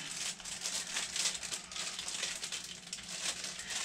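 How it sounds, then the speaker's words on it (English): Plastic packaging of Valentine's cupcake picks being opened by hand: close, continuous crinkling and crackling that swells and fades in bursts. "I don't know if I can open these without scissors or not."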